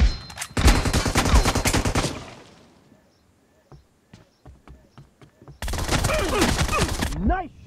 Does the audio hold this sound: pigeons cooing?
no